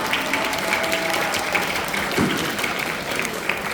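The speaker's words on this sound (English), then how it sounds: "Please give her a round of applause" A school festival audience applauds the pageant winner, steady moderate clapping from a crowded hall, slightly distant, with a few sharper claps standing out.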